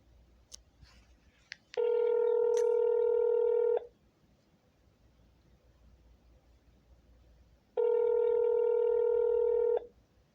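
Telephone dialing tones for a police department number, heard as two long, steady tonal bursts of about two seconds each separated by a quiet gap, preceded by a few faint clicks.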